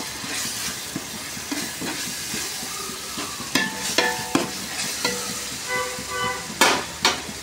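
Ginger garlic paste frying in a pan for biryani, giving a steady close sizzle broken by sharp spoon scrapes and metallic clinks from stirring, with no talking.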